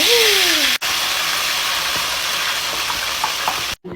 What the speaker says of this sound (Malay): Tu goreng ikan.